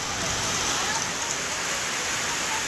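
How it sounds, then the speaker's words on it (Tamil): Heavy rain pours steadily over the Melmalaiyanur area of Villupuram district, Tamil Nadu, a dense, continuous hiss of falling water with no break and no voices. "விழுப்புரம் மாவட்டம் மேல்மலையனூர் சுற்றுவட்டார பகுதிகளில் அரை மணி நேரத்திற்கும் மேலாக கனமழை வெளுத்து வாங்கியது."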